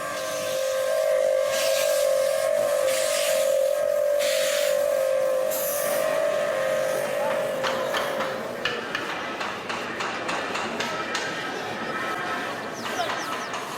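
A steam locomotive of India's Eastern Railway hisses and whistles with a long steady tone, then chuffs and clanks rhythmically as the train gets moving; faint voices underneath.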